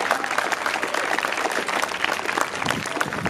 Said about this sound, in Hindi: चलिए जोर से ताली बजाइए।